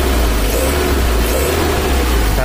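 Car engine revving steadily at close range, a loud continuous roar with a strong low rumble and no pauses.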